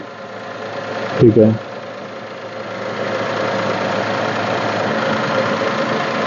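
Steady engine drone inside the closed cabin of a Tata Tiago, a continuous low hum that builds slightly over time, with a brief burst of speech near the start.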